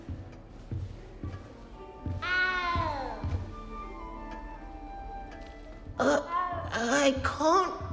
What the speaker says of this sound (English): You don't need to be frightened, little cat.